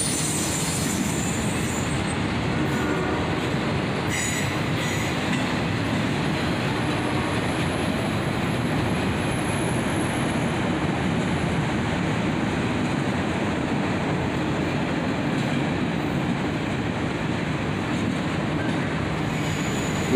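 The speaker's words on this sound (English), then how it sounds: "autorack train, led by a pair of AC-44 CWs" An autorack freight train led by a pair of AC-44CW locomotives rolls past, its steady loud rumble of wheels and cars running unbroken for the whole stretch, with faint clickety-clack and occasional high squeals.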